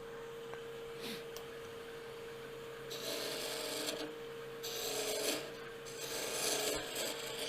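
Wood lathe tool cutting a small taper on a turned Christmas ornament: a faint steady hum, then three rasping cuts of about a second each, growing slightly louder, close by and with no talking.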